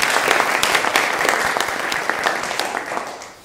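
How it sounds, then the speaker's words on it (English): Audience applauding at a community climate resilience talk in Central Oregon, a dense steady wash of many hands clapping that thins toward the end. "Let's do one more round of applause."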